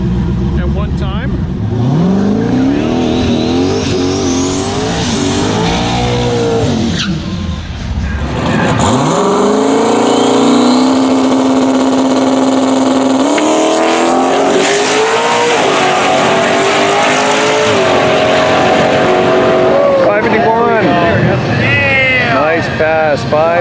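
A turbocharged C4 Corvette roars close by at a drag strip, revving, launching and pulling hard, with tyre squeal and a sustained high engine drone. Other engine noise and a commentator's voice run under it.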